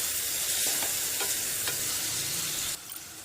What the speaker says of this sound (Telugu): ఈ ఉల్లిపాయలు ఎంత ఫ్రై చేసుకుంటారో అంత టేస్ట్ వస్తుంది.